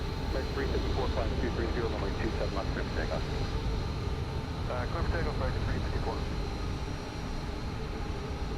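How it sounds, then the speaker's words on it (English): Jet engine noise from a PMDG 737-900ER in Microsoft Flight Simulator at an airport: a steady droning hum holds throughout at moderate loudness, with chirping tones scattered over it in the first half. "Another aircraft's coming to land here."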